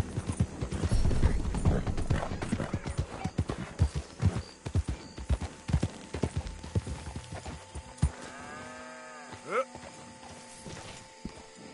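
Horse hooves clip-clop steadily in Red Dead Redemption 2, a close rhythmic trot with a brief whinny near the end and voices talking over the first half.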